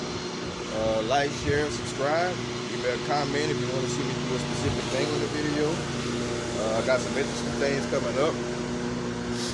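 A neighbor's lawn mower hums as a steady motor drone in the background throughout while someone talks over it.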